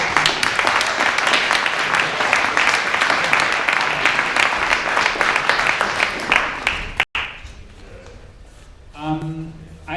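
A conference audience gives loud, continuous applause at the closing session of a VR event. The clapping cuts off abruptly after about seven seconds, and a voice then speaks quietly in the room.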